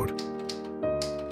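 A 1955 Royal Companion portable typewriter is typed on, giving several crisp key strikes in quick succession over a faint background hum.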